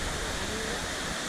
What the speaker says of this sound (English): This is what we came for over here. That big waterfall.